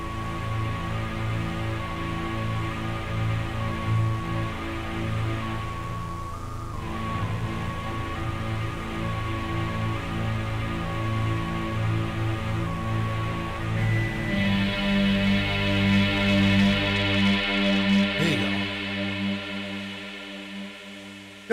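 A synthesizer pad run through an original Strymon Big Sky reverb pedal, sustained chords with a wash of long reverb tail, loud and steady with no talk, brightening into a denser, shimmering layer toward the end.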